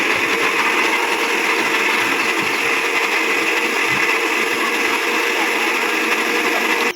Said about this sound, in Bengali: এখন ব্লেন্ডার করব